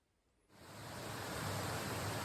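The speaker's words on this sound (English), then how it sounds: "here at Cooper Brook Falls, and what a great picture it is" Cooper Brook Falls, a waterfall on the Appalachian Trail, begins with a near-silent stretch and then breaks into a steady broadband roar of falling water that swells slightly and holds, with no voices present.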